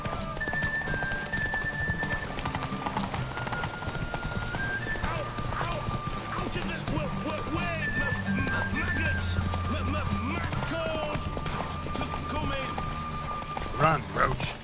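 Roach the horse galloping in The Witcher 3, a rapid rhythmic clip-clop of hooves that runs throughout, mixed with game music, with a brief neigh and speech heard over it.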